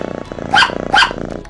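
A cartoon dog in Toca Boca Life World growls with a rapid, rattling low rumble, broken by two sharp barks close together, near and loud.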